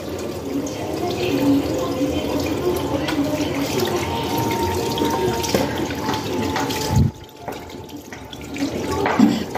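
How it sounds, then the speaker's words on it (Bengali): A tap runs steadily while hands are scrubbed and rinsed with neem soap after a meal, the water rushing close and continuous, briefly dropping off before flowing again with splashing. "খাবার পরে খুবই জরুরি হাতটা ভালো করে ঘষে উলট পালট করে ধুয়ে নিতে হবে"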